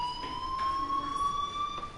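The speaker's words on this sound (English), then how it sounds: "do you hear that fire alarm? That means you should be outside." A fire alarm rings in the video game Life is Strange as a continuous, steady electronic tone, loud and unbroken throughout, with faint pulsing underneath and no speech.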